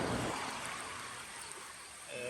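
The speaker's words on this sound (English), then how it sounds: "Fill up water bottle." Water rushes and gurgles as a water bottle is filled in a river stream, a short, faint trickling wash.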